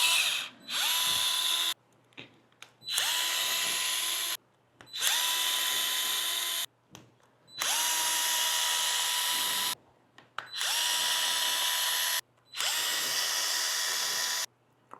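A power drill spins out screws from a Traxxas Maxx Slash RC truck in repeated bursts, each whine lasting a second or two with short silent gaps between, close and loud.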